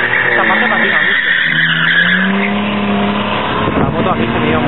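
A supermotard motorcycle skids and slides on a slippery track section, its tire scrubbing under a loud, steady engine drone while a rider talks over it.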